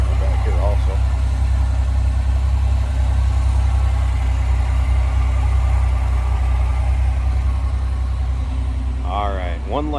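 A 1987 Pontiac Fiero GT engine idling with the hood closed, a steady low rumble and whir held close and loud throughout, with a voice breaking in briefly near the start and end.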